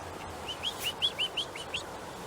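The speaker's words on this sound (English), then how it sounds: "Come on, call ducks, we give you a call." Call ducks at a garden pond in Dawlish, a quick series of about eight short, high, nasal calls over soft outdoor background noise.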